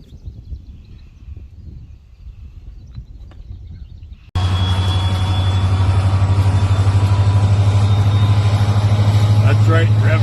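Heavy farm engines suddenly roar to life and hold a loud, steady rumble with a strong low drone, following a quieter stretch of faint background noise.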